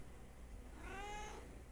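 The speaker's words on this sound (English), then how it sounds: "That's the cat." A cat gives a single drawn-out meow near the middle, rising and falling, heard at low level against a quiet indoor background hum.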